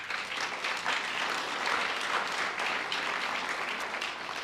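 Audience applause during a mayor's State of the City address, a full, steady round of clapping from a large crowd that holds at an even level for several seconds.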